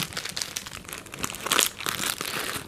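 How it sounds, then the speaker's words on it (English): A plastic bag crinkles and rustles close up in irregular bursts as it is handled and packed into a kit, with no voices. "a plastic bag just in case I need to waterproof something"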